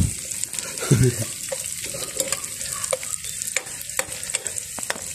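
Chinese sausage fries over charcoal on medium heat, giving a steady close sizzle with scattered crackles and pops, plus a brief clatter of utensils stirring early on.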